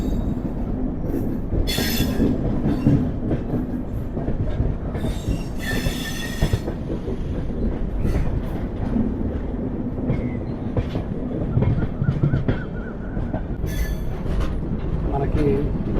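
Prashanti Express passenger train (18463) running on rails, with a steady close rumble of wheels and carriages broken by several bright bursts of wheel squeal throughout.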